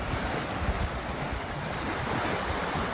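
Sea waves at Admiralty Park, Bermuda, a steady broadband wash of surf mixed with heavy wind buffeting the microphone, continuous and fairly loud with no talk.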